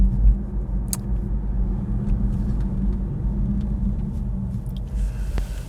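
A BMW i3 electric car on a short trip, heard from inside as a steady low road rumble and tyre hum with no engine note, broken by a few light clicks and taps.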